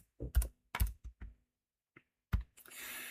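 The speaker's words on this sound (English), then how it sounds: "So we can type in here totals." Typing on a computer keyboard to enter text into an Excel spreadsheet: close, crisp bursts of keystrokes in short irregular clusters, separated by pauses and ending in faint rustling.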